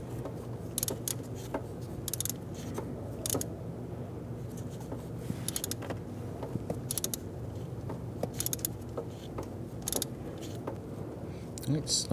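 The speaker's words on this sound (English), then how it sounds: "we'll go ahead and install the ratchet on the end of that" Ratchet tightening a spark plug on a 1994-2004 Ford Mustang engine, with repeated bursts of fast metallic clicking separated by short pauses, fairly close and clear.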